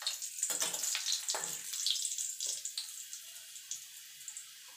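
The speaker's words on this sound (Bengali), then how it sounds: "3টে শুকনো লঙ্কা ভেজে নেব।" Three dry red chillies frying in hot mustard oil in a pan, giving a close, steady sizzle with crackling bursts and pops that fade to lighter spitting.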